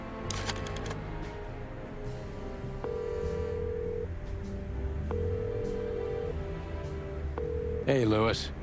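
Phone number keyed in on a telephone keypad in the Chicken Police noir video game, a short run of evenly spaced dial tones over steady background music, ending in a brief rising chirp.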